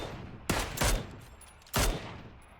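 Three sharp gunfire bursts in PUBG, shots aimed at a vehicle's tires, the first two close together and the last after a pause, loud and crisp with short echoing tails.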